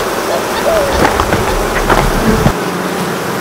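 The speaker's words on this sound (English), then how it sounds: "Able to hear the little bit louder hum, and the bees are moving away." An Apisolis bee smoker, a vape-style device, hums steadily beside a hive with bees buzzing nearby, a continuous moderate drone that cuts off near the end.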